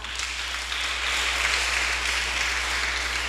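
Steady, dense applause from an audience during a spoken address, a continuous wash of clapping that rises slightly after the first moment and holds evenly.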